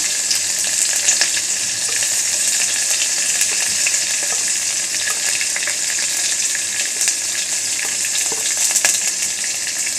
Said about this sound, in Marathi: आता हे 2 चमचे तेल घ्यायचं, राई आणि जिरं घालायचं त्याच्यामध्ये मिरची घालायची, कढीपत्ता घालायचा